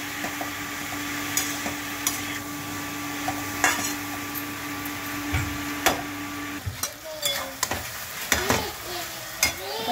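Ash gourd and shrimp curry is stirred in a frying pan, with a constant sizzle, a steady hum and sharp, irregular clinks and scrapes of the spatula against the metal, close by.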